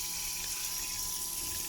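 Water runs steadily from a campervan tap in a Mercedes Marco Polo, the pump restored after its fuse was refitted, a constant close hiss with no talk.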